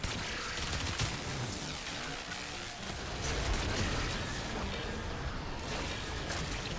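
Continuous gunfire and rocket-launcher blasts from a firefight in the Warframe video game, a dense, steady barrage of shots and booms with no pauses, with a swell of heavier impacts partway through.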